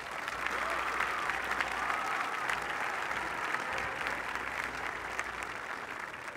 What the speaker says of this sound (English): please, a big round of applause for the Raiders.